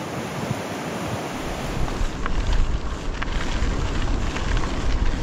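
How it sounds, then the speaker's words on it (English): A river flows outdoors on a backcountry bike route, a broad steady wash of rushing water mixed with wind buffeting the microphone, loud and continuous with no talk. "I was looking at this beautiful river"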